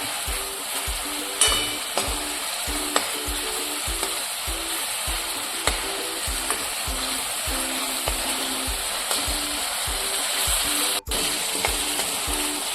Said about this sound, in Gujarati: કાંદાને આપણે ધીમા ધીમા સાતળવાના છે.